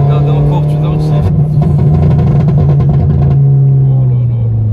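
A Peugeot 208 GTi with a 1.6 turbo engine revs loudly and close up on a downshift. The strong droning engine note holds and rises, then falls away toward the end, with someone talking over it.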